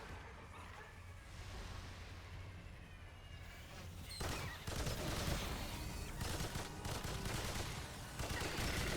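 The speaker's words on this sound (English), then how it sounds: "I'm firing a loud-ass machine gun" Sustained automatic machine-gun fire in a video game rattles loudly and continuously in the second half, after a quieter stretch of dense rumbling game ambience.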